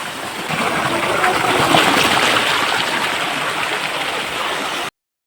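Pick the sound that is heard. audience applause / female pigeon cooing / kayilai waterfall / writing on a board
kayilai waterfall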